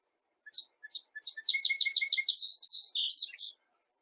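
Recorded songbird singing a clear, rhythmic series of high chirps and whistled notes, starting with a few spaced calls and speeding into a quick run of repeated phrases before stopping, heard alone with nothing else present.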